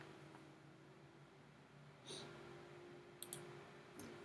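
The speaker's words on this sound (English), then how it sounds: "if you click OK" Computer mouse clicking during 3ds Max texture work: a few sharp, isolated clicks spaced apart, close and clear over a faint steady hum, with no talking.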